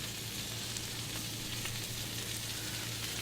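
Bacon sizzling in a frying pan for keto hamburger steak, a steady, even crackling hiss with a faint low hum beneath, quiet and continuous with no talking.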